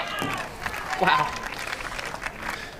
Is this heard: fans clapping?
yes